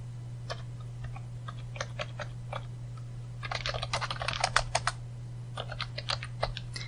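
Python code is typed on a computer keyboard in quick, uneven bursts of soft clicking, busiest toward the middle, over a low steady electrical hum.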